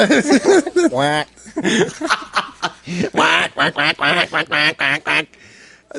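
A voice imitates a duck with a loud, close run of nasal, rhythmic quacks mixed with chuckling and laughter, in quick bursts one after another.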